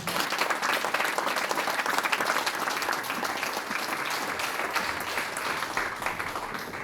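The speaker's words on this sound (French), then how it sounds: "Je vous demande de l'applaudir." Sustained audience applause at a sports awards ceremony in Nilvange, a dense, even wash of many hands clapping at steady loudness throughout with no voices above it.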